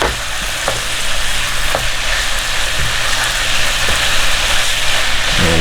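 Saltfish being mixed into green bananas in a hot pan, a steady close sizzle and frying hiss with scattered soft scrapes and clicks of the stirring spoon, no talking.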